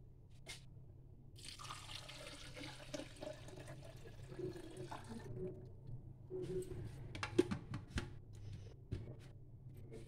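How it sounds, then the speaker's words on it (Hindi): Tap water poured into a blender jar holding washed fresh mint leaves in a home kitchen, a low steady splashing and trickling with a few drips near the end, faint and close. "चार गिलास पानी ऐड करेंगे।"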